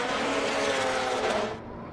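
A Mazda Miata race car on a hot lap at Circuit of the Americas roars past loudly, its steady high engine note and tire noise fading as it moves away.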